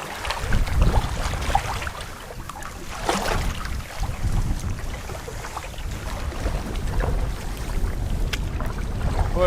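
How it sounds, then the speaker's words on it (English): Canoe paddling on Lake Superior during a wilderness trip, a steady wash of water and wind noise with soft rhythmic paddle swishes, close and continuous. "What a wonderful day of paddling it's been."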